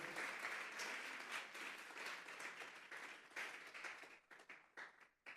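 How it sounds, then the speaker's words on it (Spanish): A church congregation applauding, a dense burst of many hands clapping that fades out into scattered, sparser claps toward the end. "Dele una ofrenda de palmas a Dios en esta hora."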